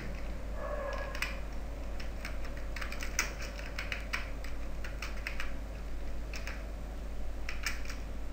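Rapid clicks of fingers typing an Excel formula on a computer keyboard, a fast burst of keystrokes followed by several scattered taps, close and alone against a steady low hum.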